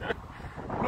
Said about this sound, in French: le vent souffle comme ça, le vent souffle dans mes oreilles